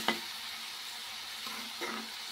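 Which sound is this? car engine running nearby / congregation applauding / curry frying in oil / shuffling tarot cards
curry frying in oil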